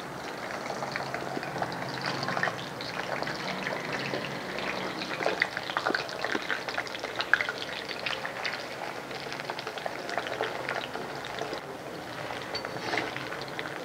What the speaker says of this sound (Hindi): सबसे पहले हम फ्रेंच फ्राइज़ को फ्राई कर लेते हैं।